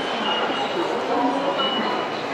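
Subway train on a Seoul line heading to Seoul Station rumbles steadily from inside the car, with a constant whooshing roar and faint metallic squeal.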